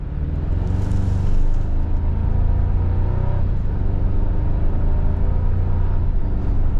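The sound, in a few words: 2025 Toyota 4Runner SR5 turbo four-cylinder accelerating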